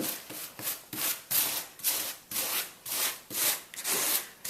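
Mosaic grout is scraped back into a pot in about nine rhythmic, gritty strokes, each a close, rasping sweep followed by a brief pause.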